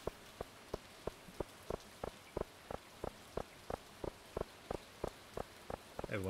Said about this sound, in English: Everyone's inside in the rain.